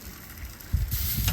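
Pork, apple and sage burgers on a charcoal grill, a faint sizzle that swells into louder crackling and thuds as the patties are flipped partway through.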